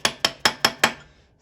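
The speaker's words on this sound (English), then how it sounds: "So I'm gonna just give it a little tappy tap here with the hammer." Five quick, evenly spaced metallic taps of a hammer striking a punch on a go kart, each a sharp close clink that decays fast, followed by a short silence.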